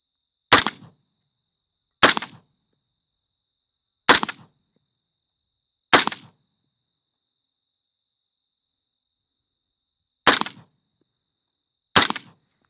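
Six sharp rifle gunshots fired at a target one by one with uneven gaps, each a loud crack followed by a brief decay. The longer pause falls before the last two shots. No voices.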